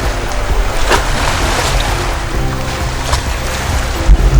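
Waves lap along a Michigan beach under hazy sky, a loud, steady wash of surf with some wind buffeting the microphone and a brief louder thump near the end, no voices.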